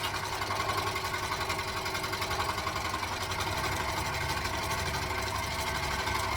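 Sewing machine running steadily while stitching cotton fabric with a lighter-quality thread, a continuous close mechanical whir and buzz with no talking.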